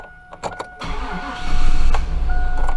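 A Chevrolet 5.3L V8 with 225,000 miles cranks in a few uneven bursts, then catches into a loud, rumbling start and settles into a steady idle, close by with no talk.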